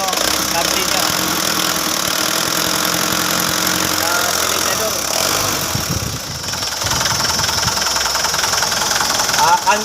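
A Fuso truck's turbocharged diesel engine with intercooler runs at a steady idle, loud and close with a knocking clatter throughout, while people talk over it.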